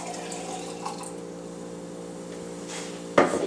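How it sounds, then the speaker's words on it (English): Sparkling water poured into a wine glass, a steady fizzing trickle over a constant low hum, ending with a sudden louder splash near the close. "So you just pour that in a wine glass."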